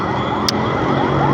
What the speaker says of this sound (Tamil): ஆம்புலன்ஸ் வேறு வருதுங்க.